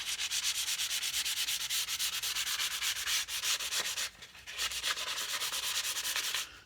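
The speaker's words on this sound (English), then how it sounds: "So right now we are at 320 grit, and I've already started wrapping around to include the fret ends now." Close, steady back-and-forth scraping of 320 grit sandpaper on the wooden neck of a cigar box guitar around the fret ends, with rhythmic strokes and a brief pause near the end.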